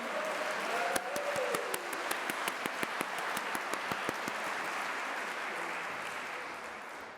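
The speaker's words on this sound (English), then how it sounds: "A huge round of applause, please." An audience at a motivational talk applauds with a dense wash of clapping, individual claps standing out near the start, then gradually thinning and fading toward the end.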